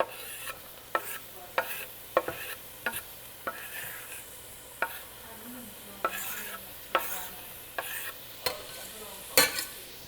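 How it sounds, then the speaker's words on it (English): Onions and peppers sizzle in hot butter for brisket chili, a steady frying hiss broken by regular sharp clicks and scrapes of stirring. "I throw the onions in, I'm gonna get those going. Go with our peppers."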